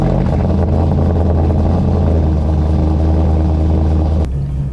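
Corvette C5 or C6 with Speed Engineer headers and an X-pipe, a loud deep exhaust rumble from inside the moving car that holds steady, then drops off abruptly near the end.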